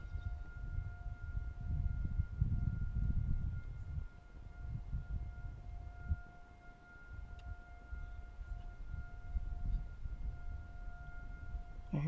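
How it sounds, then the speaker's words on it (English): Faint sirens wail far off in Allentown, two steady tones holding beneath a low rumbling outdoor background for the whole stretch. "I hear sirens again off in the distance."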